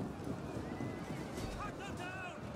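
Horses of mounted skirmishers in the battle game Total War: Rome 2 whinny and clatter amid dense, continuous battlefield noise.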